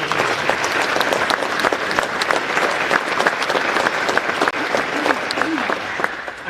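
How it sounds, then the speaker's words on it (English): An audience at a US Army colonel's promotion ceremony applauds a military spouse, with loud, sustained, dense clapping from a nearby crowd that continues evenly from start to finish. "Please join me in a round of applause for Kim again for being a wonderful military spouse."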